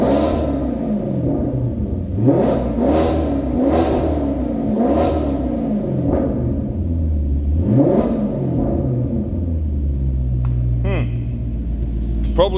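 Maserati GranTurismo 4.7 S V8 with sport exhaust revving hard in repeated loud throttle blips, each rising and falling, recorded from close behind, then settling into a deep steady idle rumble toward the end.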